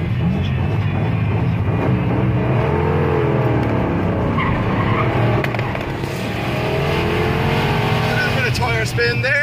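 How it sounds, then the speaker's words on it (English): A Rover P6 3.5 V8 pulls out of a junction with its tires spinning, giving a loud sustained engine roar and a rising squeal heard from inside the car while people talk. "Tire spin there."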